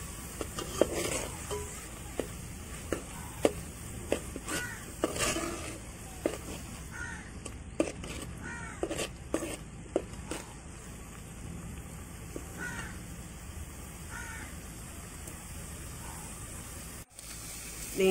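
Grated beetroot frying in ghee for halwa, with a soft continuous sizzle and scattered clicks and scrapes of a spoon stirring the pan, close and fairly quiet.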